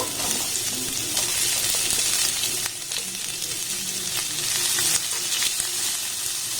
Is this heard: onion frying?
yes